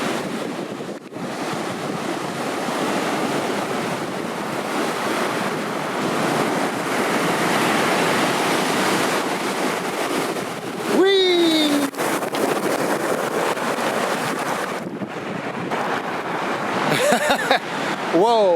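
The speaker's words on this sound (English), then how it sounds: "Some of the waves have actually, this is all fresh. This has just happened. So some of these waves are making it clear up over here." Ocean surf rushing up a beach on the Washington coast, a loud continuous wash of waves and wind buffeting the microphone, with a few brief whistling calls near the end and no clear talk.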